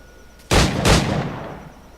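A snap pistol shot fired in the pirate action game Assassin's Creed 4 Black Flag: two loud, sharp reports in quick succession, each with a ringing tail that fades away.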